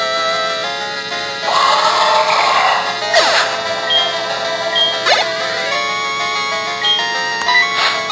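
A ringing in-game phone in Pokémon HeartGold, an electronic ringtone melody repeating in short bursts over the background music, loud and continuous.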